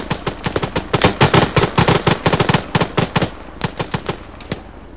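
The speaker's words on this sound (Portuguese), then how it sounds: "tem um cara atirando na gente" Machine gun fire from the military shooter game Arma 3 rattles out in dense, loud rapid bursts with short gaps, close and continuous across the whole stretch, with no talking over it.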